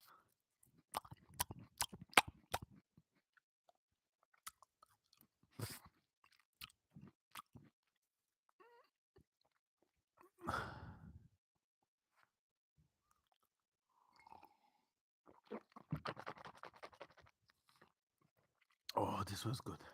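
Close ASMR chewing of food, with irregular crunchy bites and wet mouth sounds in bursts separated by silence, alongside some quiet speech.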